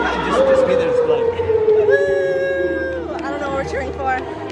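A crowd at a gig cheers and whoops close by, lively babble and shouts under a near voice, with one loud rising whoop.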